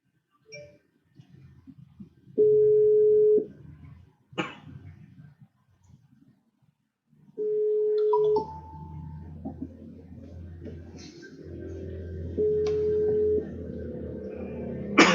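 A telephone line tone sounds in three separate steady beeps spaced several seconds apart, with soft clicks, rustling and background noise in between.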